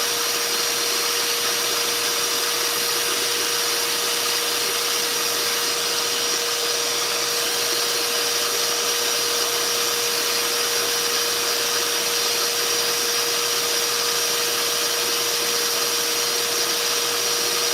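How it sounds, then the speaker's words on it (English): A small air compressor runs steadily in a constant, even hiss and whine with a fixed pitch, droning on without change for the whole stretch, no voices. "my air compressor isn't that big either"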